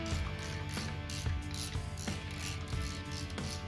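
A hand ratchet clicks steadily as it snugs timing cover bolts on a Gen 3 5.3 engine, with repeated close, crisp pawl clicks in short bursts and no talking.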